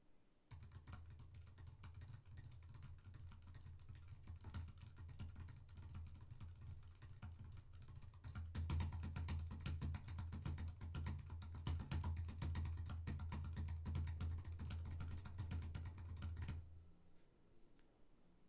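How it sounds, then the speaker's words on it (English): Computer keyboard keys tapped softly, then harder, with a microphone resting on Sorbothane pads, produce evenly spaced close clicks that grow louder and denser halfway through before stopping. "tapping softly and hardly on the keyboard, nicely spaced"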